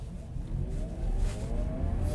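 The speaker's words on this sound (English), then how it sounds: "you hear that electric motor whining and whirring up" The electric motor of a 2020 Chevrolet Bolt gives a faint, rising whine and whir as the car accelerates hard, with a steady rumble of road and cabin noise underneath and no engine roar.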